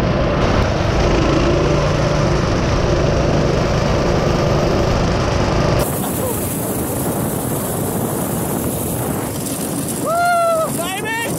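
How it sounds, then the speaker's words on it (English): A go-kart engine drones loudly and steadily under heavy wind buffeting, with a sudden shift in tone midway, and excited voices shouting near the end. "Your go-kart."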